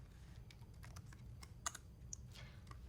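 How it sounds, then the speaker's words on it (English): A computer keyboard is typed on with a few separate keystrokes, tab among them. The clicks are light and irregular over quiet background hum, and no one speaks. "If I type D and then tab, the first file or directory starting with D will now complete."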